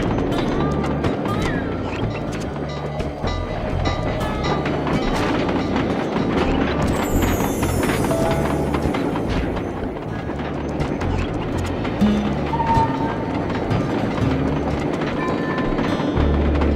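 A train in the video game Sly 2, the Iron Horse, rolls on with continuous rhythmic clickety-clack and rumbling wheels, loud and close, with a metallic screech partway through.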